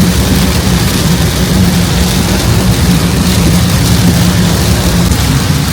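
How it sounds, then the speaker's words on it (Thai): Heavy rain pours down during a drive through Chum Phae in Khon Kaen province, Thailand, as a loud, dense, continuous roar with a low rumble underneath and no voices. "ตอนนี้รู้สึกว่าฝนตกหนักค่ะ"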